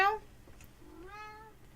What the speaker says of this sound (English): My cat is meowing. She wants out.